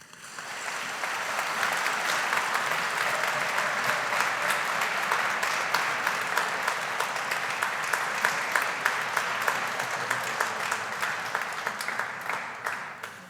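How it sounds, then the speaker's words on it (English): Graduation ceremony audience applauding: a large crowd claps steadily, building in and sustaining a dense roar of hand claps before tapering off near the end. "let's take a moment to applaud friends and family"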